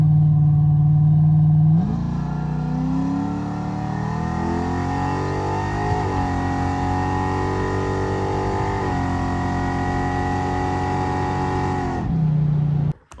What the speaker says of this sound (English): the first run, the only run I made with the 950 carburetor